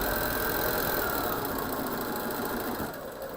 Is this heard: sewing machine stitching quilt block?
yes